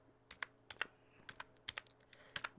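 Someone types a search on a computer keyboard, producing quiet, crisp key clicks in small irregular bursts, close and alone.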